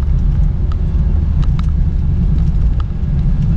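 A Honda Brio 1.3 car engine hums steadily from inside the cabin on a steep road. A continuous low rumble holds throughout, with faint scattered ticks above it.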